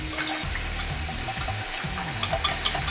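A whisk working through a cheese sauce of milk for homemade mac and cheese, making a steady, close, wet swishing and bubbling texture with a few light taps near the end.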